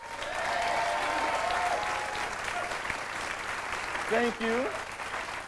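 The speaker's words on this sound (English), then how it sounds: "while you're applauding the never-before-seen voice of the Reggie Miller Show" A 1996 television studio audience applauds steadily for several seconds, a dense wash of clapping that holds, then a voice speaks briefly over the fading applause.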